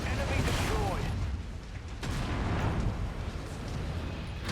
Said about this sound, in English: Try to dumbfire some lasers, some missiles in there.